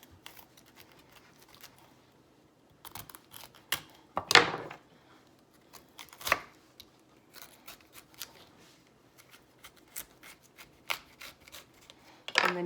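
Knife cutting the core out of a cauliflower, with quiet scattered cuts and rustles and a few sharper crunching slices and knocks close by.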